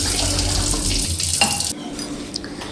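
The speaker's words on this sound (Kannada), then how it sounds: "ನಾನಿಲ್ಲಿ 2 ಗ್ಲಾಸ್ ನೀರು ತಗೊಳ್ತೇನೆ" Water streams into a cooking pot for a lemongrass kashaya, a steady close pouring wash that stops partway, followed by faint clinks of the vessel.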